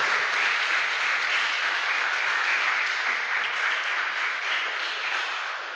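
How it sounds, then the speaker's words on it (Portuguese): A church congregation applauds the Lord, a broad, steady wash of many hands clapping at once, sustained and even throughout before easing slightly at the end. "Aplauda ao Senhor com fé."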